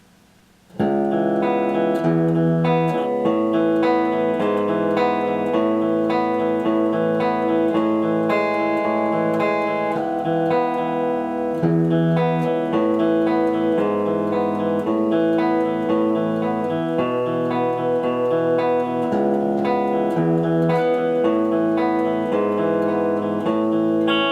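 An electric guitar plays the verse of a song, a continuous strummed and picked chord passage with a slightly driven tone, steady and loud with no voices.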